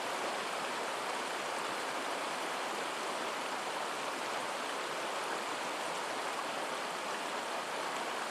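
A tannin-stained creek on the button grass Arthur Plains in Tasmania's South West, a dense, continuous rush of flowing water, close and steady with no voices.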